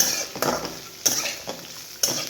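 Flat beans (ghevda) tossed and sautéed in a pan, with a few sharp clinks of a spoon against the metal about once a second over a faint, steady background.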